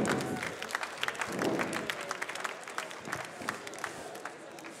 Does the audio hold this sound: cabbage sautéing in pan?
no